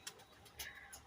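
A pigeon cooing softly a few times in quick succession, faint and brief, heard alone.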